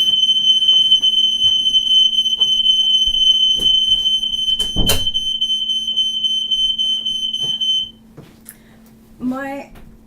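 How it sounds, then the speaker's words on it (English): A smoke alarm sounds a continuous high-pitched electronic tone for about eight seconds, then stops; a brief bump interrupts and a voice is heard near the end. "another smoke alarm"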